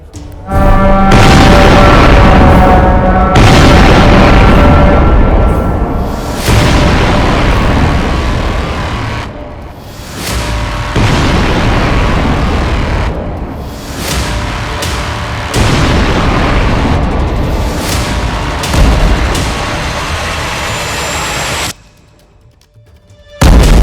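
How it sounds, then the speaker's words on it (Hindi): Bombing in Tehran, Iran: repeated heavy, deep booms and blasts roll one after another, loud and continuous with rumbling decay, ending in a brief hush before another impact. "लगातार बमबारी हो रही है।"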